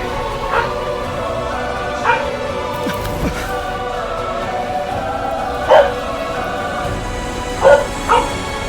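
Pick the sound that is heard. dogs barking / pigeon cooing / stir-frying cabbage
dogs barking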